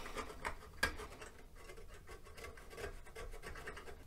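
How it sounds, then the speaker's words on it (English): A scraper is worked over rust stains on a metal shield from an Amiga CD32 console, producing faint, close, repeated rasping scrapes in short irregular strokes with one sharper scratch early on. "this metal shield actually has a couple of rust stains, so I'm just gonna scrape off"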